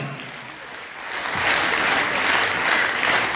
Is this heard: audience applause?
yes